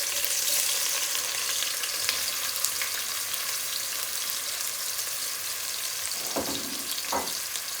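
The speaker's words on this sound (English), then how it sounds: "the ghee has heated up, and this is 2 medium-sized onions, not too thin, reasonably sized" Two medium onions fry in heated ghee, giving a loud, steady, close sizzle throughout with a couple of soft stirring knocks near the end.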